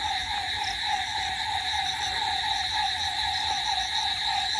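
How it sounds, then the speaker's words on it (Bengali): Crickets trill outside at night near a lake in rural Purulia, with several steady high chirping layers pulsing continuously alongside frog-like calls and no talking. "বাইরে ঝিঝি পোকার ডাক,"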